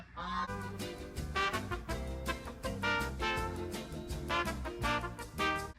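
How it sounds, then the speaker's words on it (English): A flock of geese honks loudly and close by, with rapid, overlapping calls in dense bursts and no talking. "I gotta run off asshole geese."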